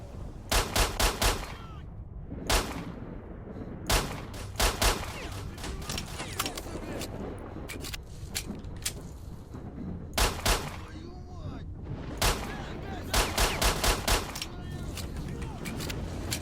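Sharp pistol shots in the video game Stalker ring out in quick clusters of three or four and as single cracks, spread over a constant low ambient rumble with no speech.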